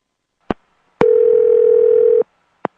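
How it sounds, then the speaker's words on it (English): A telephone dial tone, a steady loud hum lasting just over a second, with sharp clicks before and after it, as on a landline handset being connected to the network. "This is confirmed by the sound of a dial tone."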